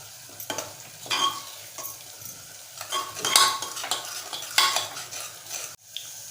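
Spices sautéed in oil for a Malvani-style sprouted brown chana usal, with a spoon scraping and stirring the pan in repeated strokes over a steady sizzle, close and fairly loud.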